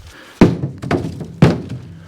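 Firewood logs being loaded thunk down one after another, three solid hollow knocks with smaller clunks between them, close and fairly loud.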